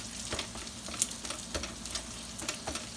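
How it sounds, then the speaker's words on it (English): Hot grease sizzles and crackles steadily in a pan of cooked hamburger meat as it is tipped to drain, with a few sharper pops and light stirring scrapes, close and moderately loud, no talking. "Okay, I'm just going to drain the grease."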